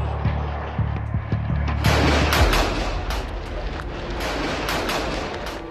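Gunfire crackles and booms through a street battle between Christians and Shias in Beirut as demonstrators come under fire, with sharp bursts and heavy reports over a dense, continuous roar of noise.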